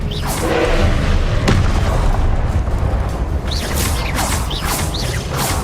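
Blasting-curse explosions in Hogwarts Legacy, a fantasy video game, boom loudly and close, one after another, with rushing whooshes and ringing debris.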